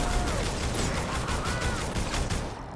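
The Fire Smasher weapon in the video game Fortnite fires in a dense, rapid stream of loud, rattling bursts that carry on steadily for nearly three seconds before tailing off, with no talk.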